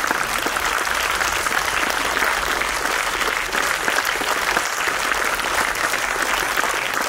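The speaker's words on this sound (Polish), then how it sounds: "Wielkie, wielkie brawa i orkiestra" Dense, continuous applause from a large crowd at an opera performance, steady and loud throughout without pause.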